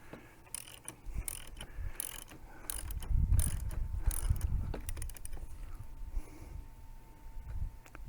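Mechanical ratcheting and clicking from tightening the top locking nut on a WP Xplor fork cartridge shaft for a KTM or Husqvarna motocross bike, with a run of close, irregular clicks and a low rumble of handling in between.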